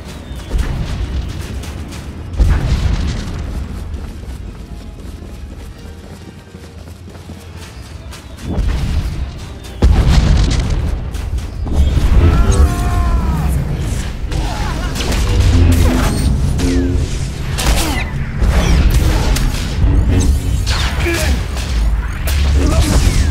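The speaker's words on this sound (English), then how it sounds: "His shields are down. Coming in for a bombing run." A starship makes a bombing run during the Battle of Ilum in the game SWTOR, setting off heavy booming explosions and rumbling blasts. They come in repeated waves with a dip midway and are partly layered with voices and dramatic music.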